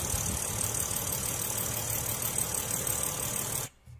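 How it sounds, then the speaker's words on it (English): A BMW M3 engine idling with an odd, uneven note and some rattle, a steady close mechanical hum that cuts off abruptly near the end. "That motor sound a little weird, don't it?"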